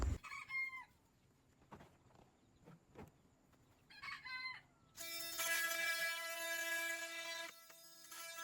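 Hens cluck and a rooster crows in short bursts, then a loud, sustained crow rings out close by with harmonic overtones.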